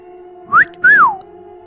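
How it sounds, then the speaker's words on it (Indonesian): A man gives two quick whistles up close, a short rising note followed by a longer swooping one, clear and loud over a steady low hum. "berandal tadi pun bersiul"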